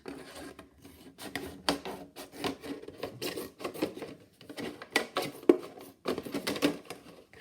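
Scissors cut a recycled plastic milk bottle in short, repeated rasping snips and crinkles, close up and moderately quiet, with brief pauses between cuts and no speech.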